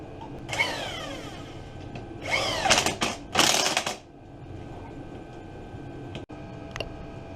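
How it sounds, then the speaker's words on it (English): Hand ratchet driving two bolts back into a Big Bear 400cc 4x4 ATV, rapid clicking bursts in close succession near the mic, with no talking. "Put our 2 bolts back in."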